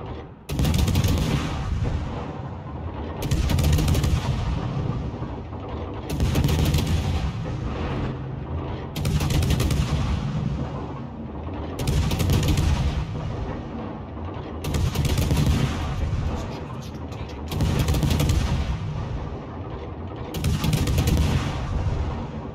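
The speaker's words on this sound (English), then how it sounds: "Concentrate fire on that enemy warship." Heavy naval artillery from warships in a video game booms in repeated loud volleys about every three seconds, each salvo a dense, crashing blast over a constant low rumble of battle.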